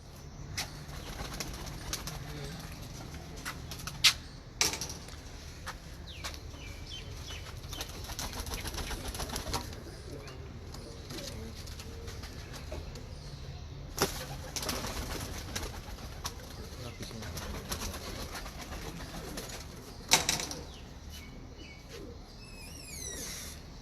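Royal Teddy pigeons coo softly and repeatedly, low murmuring calls overlapping at close range, with a few sharper flutters or knocks breaking through the steady background.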